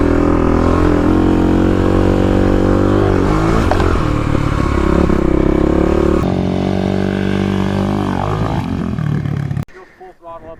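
A 35 hp Kawasaki KLX351 dirt bike roars at full throttle riding off road, its engine loud and close with rising and falling revs for nearly ten seconds before cutting out abruptly to a quieter idle.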